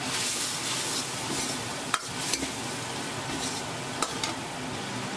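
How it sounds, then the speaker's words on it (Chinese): Sauce cooking down in a wok over high heat, seasoned with salt, sugar, pepper, soy sauce and cooking wine, makes a continuous bubbling sizzle with occasional sharp clinks and scrapes from stirring, close and steady with no talking. "搅拌均匀，大火收汁，烧至汤汁粘稠时加入陈醋"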